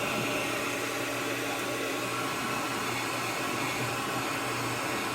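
A hair dryer blowing hot air over a freshly painted square bill crankbait, a steady, loud blowing roar with a low hum underneath, continuous and unchanging throughout, close by.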